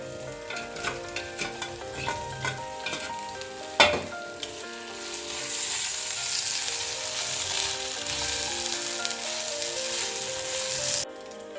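Chilli and ginger garlic paste fry in a pan with a continuous close sizzle and spatter, rhythmic stirring taps early on and one sharp knock, swelling louder before stopping abruptly.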